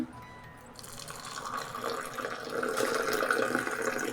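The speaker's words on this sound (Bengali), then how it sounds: "এখন ফুটন্ত গরম পানি" Boiling hot water poured into a cup with milk and sugar for tea: a quiet start, then a trickling, splashing stream that swells as the cup fills.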